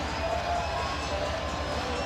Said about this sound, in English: I described the crowd as boisterous